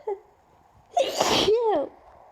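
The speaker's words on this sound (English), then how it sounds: "I'm gonna sneeze." A single loud, close sneeze during an allergy fit, with a sharp intake of breath before it and a brief voiced release after.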